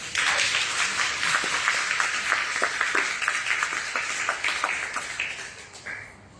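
Sustained audience applause for club officers at a Toastmasters club installation ceremony, dense steady clapping from many hands that holds for several seconds before tapering off near the end.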